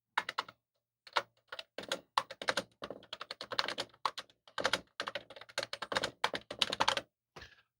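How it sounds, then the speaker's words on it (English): Keys clatter on a Data General Dasher terminal keyboard, with bursts of quick, close, crisp clicks separated by short pauses and no talking. "Let me go ahead and type one more thing while you're looking here so you can see."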